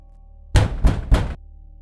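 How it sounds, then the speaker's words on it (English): Three heavy, evenly spaced knocks land on a wooden door, close and loud against near silence, a tense horror-story effect. "A knocking sound came through Lily's phone"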